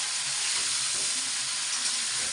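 Yardlong beans coated in turmeric drop into hot oil over a high flame, giving a dense, steady, loud sizzle that hisses continuously at close range without a break.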